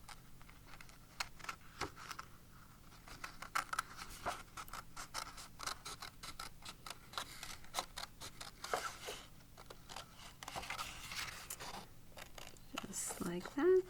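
Scissors cutting out paper hand tracings, a long run of crisp, rapid snips and paper rustles, close and fairly quiet, with soft speech mixed in.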